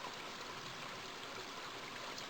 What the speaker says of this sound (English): The swift river turns sharply to the south here.